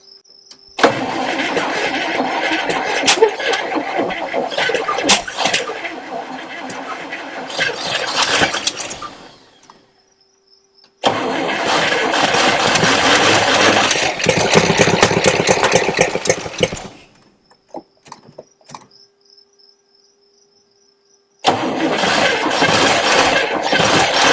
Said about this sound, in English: Let's crank on it again. See if we get a little more life out of it.